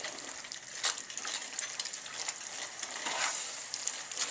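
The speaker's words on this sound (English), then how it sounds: "now what I'm going to do is just stir this together" Chili with tomatoes in a pot being stirred, giving a close, continuous bubbling sizzle with soft wet scrapes and sloshes, fairly loud and without talk.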